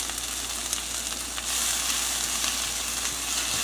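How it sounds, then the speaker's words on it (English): Spinach sautéing in a pan with leftover butter and ghee, a steady close sizzle and crackle that grows a bit louder and brighter partway through as it is stirred. "I'm going to saute some of that spinach up."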